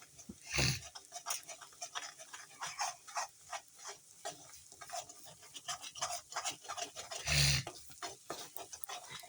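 An egg fries in a pan with little oil while being stirred for a vegetable chowmein, faint sizzling under rhythmic spatula scrapes, with two louder swishes.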